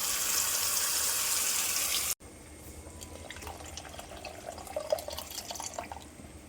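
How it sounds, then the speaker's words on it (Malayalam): Water mixed in a mixer jar is poured into a clay pot of roasted coconut curry paste for a Kerala-style stingray fish curry, giving soft liquid splashes and drips after a loud burst of hiss at the start. "കുറച്ച് വെള്ളം കൂടെ മിക്സിയുടെ ജാറിലിട്ട് കലക്കി ഒഴിച്ചു കൊടുക്കുന്നുണ്ട്."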